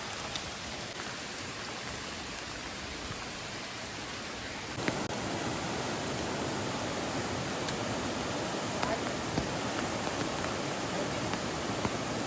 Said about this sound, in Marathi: पाऊस आहे ना, निस्पाटच आहे.